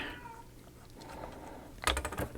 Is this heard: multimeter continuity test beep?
no